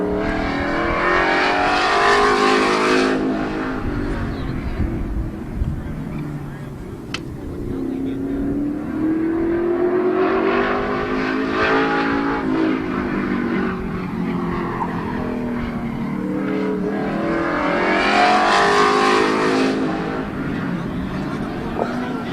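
Stock cars race around the Midvale Speedway oval, the number 65 car among them, with engines roaring in rising and falling passes and tires squealing through the turns, loud and continuous, while an announcer talks over the noise.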